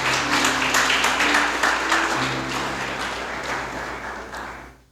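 A church congregation applauds in dense, sustained clapping that fills the room, then tapers off gradually.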